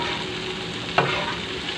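Okra (bhindi) fries in a pan with a steady close sizzle and a brief louder burst of crackle around the middle, alone.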